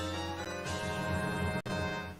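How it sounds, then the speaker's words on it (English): A Zelda video game explosion effect plays as a dense, loud burst of ringing tones that sustains for about two seconds, with a brief cutout near the end, and no voices over it. "you're gonna hear the little Zelda explosion"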